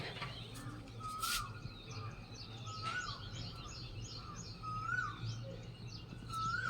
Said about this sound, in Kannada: ಕೋಗಿಲೆ ಕೂಗ್ತಾ ಇದೆ